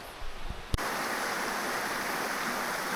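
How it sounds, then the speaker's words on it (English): Rushing river water pours steadily in a broad, continuous roar, loud and close, following a brief moment of quieter rustling, on the Appalachian Trail's 100 Mile Wilderness. "I heard the water flowing"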